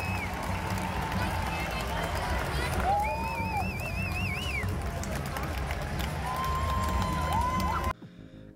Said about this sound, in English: cueing the loudest cheer of the evening when they went in front 11 minutes into the last